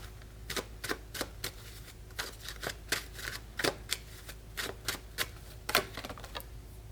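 Tarot cards drawn and flicked from a deck one at a time, giving a string of crisp, close papery snaps and slides in an irregular rhythm, fairly quiet with no talking.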